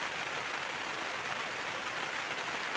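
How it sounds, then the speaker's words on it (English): Heavy rain falling in Torrevieja, Spain, heard as a soft, steady hiss with no breaks, fairly quiet and with no voices. "It's raining"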